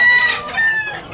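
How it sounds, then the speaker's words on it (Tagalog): Rooster at a chicken market in Tabunok, Talisay, Cebu crows once, loud and close, a short strained call that rises and trails off with no talk over it. "Gandang manok dul."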